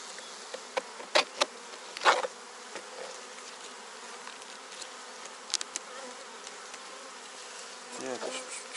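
Honey bees hum and buzz close by during a spring inspection of a weak hive, with light knocks and scrapes of frames handled among the steady insect drone.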